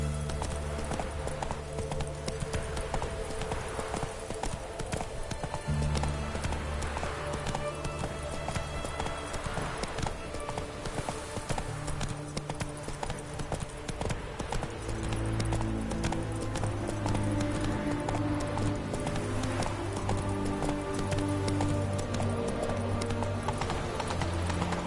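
Hooves of a galloping horse clip-clop steadily in The Witcher 3, a rhythmic patter running the whole time beneath game music.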